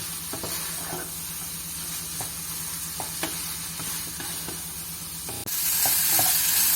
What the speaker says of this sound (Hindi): अब मैं इसके अंदर हाफ टी स्पून बिल्कुल थोड़ा सा ऑयल डालूंगी और इसको 1 से 2 मिनट के लिए अच्छी तरह भून लूँगी